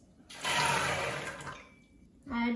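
Water pours into a pot of overnight-soaked dried green peas before pressure cooking, a close, splashing gush lasting about a second that tapers off, followed by a brief second pour.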